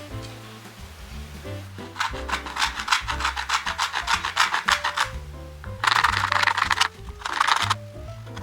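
Wood cut by hand for a small DIY Christmas tree project, steady rasping back-and-forth strokes close by, growing louder in bursts, over a soft background of music.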